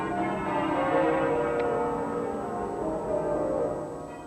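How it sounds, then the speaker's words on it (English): Muffled church bells ring at Southwark Cathedral, a dense, steady wash of dampened tones sustained throughout without any talk. "At Southwark, the bells were muffled as a mark of respect for the Princess"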